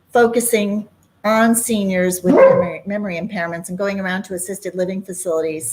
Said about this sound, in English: excuse the barking dog